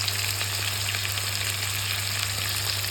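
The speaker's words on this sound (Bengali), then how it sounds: "এভাবে সমস্ত মাছগুলোকে ভেজে নেব, তারপরে রান্না করব" Fish pieces and fish heads frying in hot oil, a steady dense sizzle with soft crackling that holds evenly throughout, close and continuous with a low steady hum beneath.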